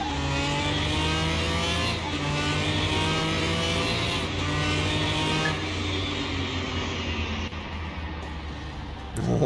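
A Pagani Tempesta's engine in Car Mechanic Simulator 2021 holds a loud, steady high-rev drone with rising harmonic tones, shifting pitch slightly before easing off near the end.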